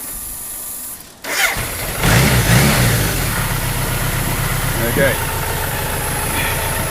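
A BMW car engine cranks and catches, rising into a loud rev before settling into a steady idle, with a rattly heat shield on the exhaust pipe; someone speaks briefly over it.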